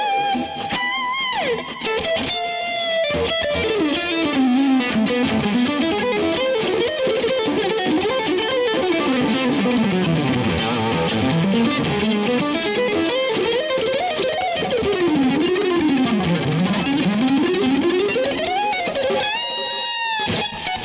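Electric guitar runs through a Tubescreamer overdrive pedal into a Marshall Super Lead amp, a loud, steady distorted lead with sweeping melodic lines up and down, continuous for about twenty seconds with no talking.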